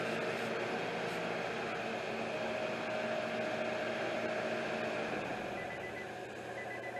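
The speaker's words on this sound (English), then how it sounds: "that sizzling sound, that is the alternator clutch that's kicking out when you cut it off" A 2003 Nissan Altima's alternator clutch sizzling after the engine is shut off: a faint, continuous hissing, whirring noise with a thin steady whine through the middle, unchanging for several seconds.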